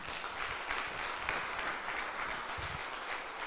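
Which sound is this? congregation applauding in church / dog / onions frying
congregation applauding in church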